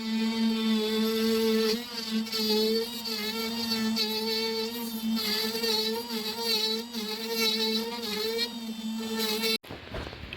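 A router cutting a hinge recess into an exterior door for a mini earthship build, a loud steady high whine with slight pitch wavering, running close and continuous until it cuts off near the end.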